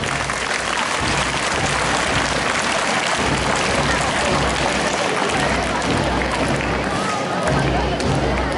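A large crowd at a retirement function gives a loud, sustained round of applause for the honored retirees, dense continuous clapping filling the whole stretch without a break.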